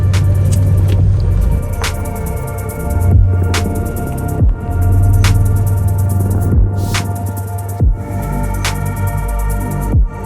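A car drives along a road with a steady low engine and tyre rumble, the drone holding evenly throughout with occasional soft thumps and clicks inside the cabin.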